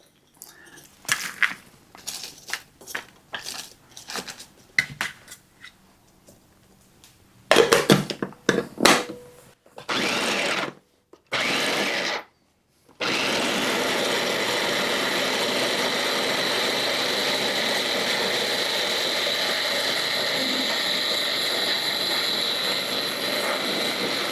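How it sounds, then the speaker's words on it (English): A small electric mini chopper chops slaw vegetables in a home kitchen: a few short, sharp bursts of the motor, then a long, loud and steady whirring run with no talking. "let me use this little small mini chopper of Marie's and get it started here."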